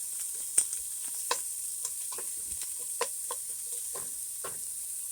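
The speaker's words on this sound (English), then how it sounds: "We'll let these onions cook for a little bit" White Vidalia onion and minced garlic fry softly in a pot for zuppa toscana soup, a quiet hiss punctuated by regular utensil taps and stirring clicks.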